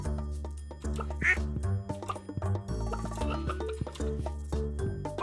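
Duck quacking in the Stardew Valley farming game, a few short quacks over looping tonal game music with chimes, fairly close and moderately loud.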